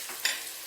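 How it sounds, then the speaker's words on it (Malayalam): Onions with salt sizzle in a pan while being sautéed for a crab pepper fry, a brief steady frying hiss with a soft stir scrape. "ഇനി ഇതിലേക്ക് കുറച്ച് ഉപ്പ് ചേർത്ത് കൊടുത്ത് നന്നായി വഴറ്റിയെടുക്കാം"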